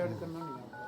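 Mobile phone keypad tones sounding as a number is dialed for a missed call, a quick run of bright beeps lasting about a second, heard close and fairly quiet.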